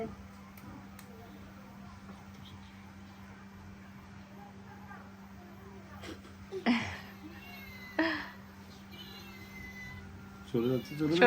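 After a quiet stretch with low hum, a cat lets out several short meows, louder toward the end, with some faint voices in the background.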